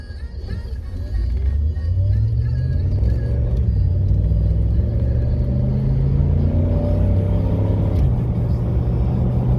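A 2011 Ford Raptor pickup with the 6.2-liter V8 and 4WD accelerating hard: a loud, steady engine roar heard from inside the cab, with rising engine tones building over the full stretch.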